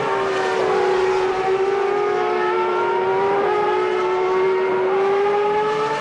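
SuperLeague Formula single-seater race cars at Donington Park, heading down the Craner Curves in a 2009 race, give a loud continuous engine whine with shifting pitch as they pass, with no talk over it.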